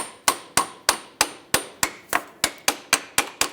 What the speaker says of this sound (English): Now let's use a hammer and hammer it out.